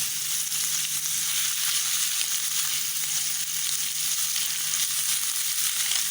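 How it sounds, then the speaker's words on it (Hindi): Boiled chicken cooking in a pan with lemon juice and soy sauce, giving a steady, even sizzle and hiss that carries on without pause and with no voices. "थोड़ा सा इसको पका लूँगी"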